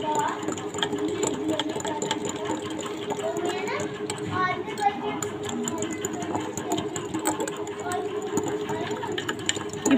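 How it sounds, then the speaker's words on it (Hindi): An electric hand beater whirs steadily while mixing butter for a tea cake batter in a home kitchen, a continuous mid-pitched motor hum under a voice, with children faintly audible in the background. "मैं यहाँ पे हैंड बीटर यूज़ कर रही हूँ।"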